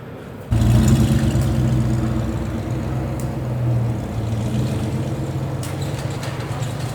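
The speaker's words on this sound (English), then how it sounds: "there's a lot of rumbly V8 sounds in this place" A V8 engine idles in a workshop with a deep, steady, close rumble that swells slightly partway through and carries on without talk.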